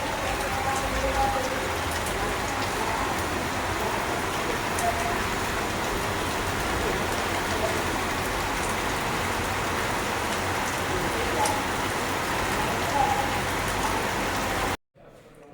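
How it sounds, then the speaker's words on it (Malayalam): Heavy rain pours steadily outside, a dense, even hiss that holds loud and unbroken for the whole stretch before cutting off abruptly at the end. "പുറത്ത് നല്ല മഴ പെയ്യുന്നുണ്ട്"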